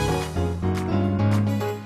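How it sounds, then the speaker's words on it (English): Upbeat gospel-style keyboard chords with sharp rhythmic hits and bright percussive accents, bouncing in a lively revival groove with no voices. "gospel music that is like revival, hand clapping type music"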